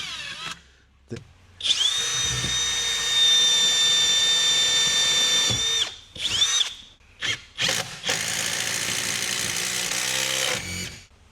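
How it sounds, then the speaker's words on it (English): A power drill whines loudly in long sustained runs, then in short stop-start bursts, close by with no talking. "I think we ought to just pre-drill."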